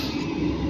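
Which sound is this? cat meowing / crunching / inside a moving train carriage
inside a moving train carriage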